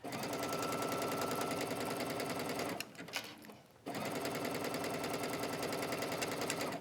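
A sewing machine stitching a seam on a knit faux wrap dress chatters in a fast, steady, close rhythm, stops for about a second near the middle, then resumes at the same pace.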